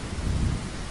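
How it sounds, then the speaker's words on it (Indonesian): Heavy rain and a windstorm: a dense, continuous roar of rain with deep rumbling underneath, loud and unbroken throughout the short moment. "Dari hujan angin yang sangat besar membuat padi"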